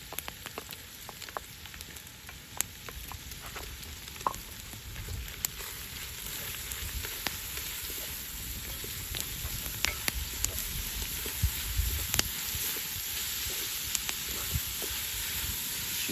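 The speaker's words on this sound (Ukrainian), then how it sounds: "Чекаємо, щоб підсмажилась трохи цибуля." Chopped onion frying in a pan as the base for plov, a steady close sizzle and hiss with scattered crackles and occasional stirring clicks, continuing alone for the full length.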